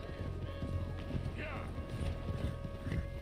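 Horse hooves clip-clopping in the video game Red Dead Redemption 2, a quiet, irregular patter of hoofbeats under a steady rumbling bed of game ambience.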